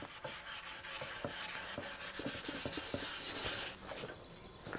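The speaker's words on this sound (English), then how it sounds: "the corners, those get a hard sanding down to almost bare wood" Sandpaper works hard over the edges and corners of a wooden stool's legs, a close, continuous rasping scrub with quick rhythmic strokes that ease off toward the end.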